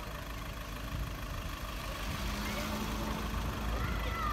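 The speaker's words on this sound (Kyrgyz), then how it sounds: "бул свежий турбина мотор" A fresh turbo car engine idles steadily at close range, a low continuous rumble with broadband hiss, with a faint tonal hum entering partway through and no talking over it.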